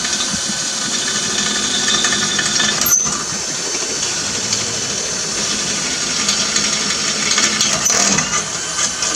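Power drill boring holes to mount a grill guard on a Ford Explorer, a steady close-up whirring grind that runs continuously with little change in pitch.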